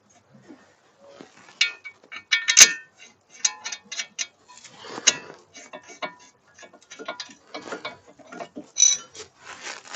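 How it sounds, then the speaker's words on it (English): A ratchet clicks and clanks while brake caliper bolts are tightened on a car during a brake disc change, giving sparse, irregular metallic ticks and clinks in a quiet garage. "Take a ratchet"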